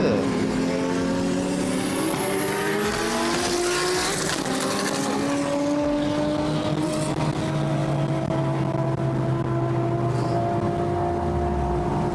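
Fast cars racing past, engines revving and roaring loudly with sweeping pitch changes as they pass close by, one howling away while others follow, with excited voices mixed in.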